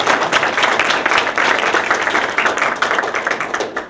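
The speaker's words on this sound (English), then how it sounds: "Let's give David another round of applause." Audience applause for author David G. McAfee after his talk, a dense steady patter of many hands clapping close and loud throughout, with no voices over it.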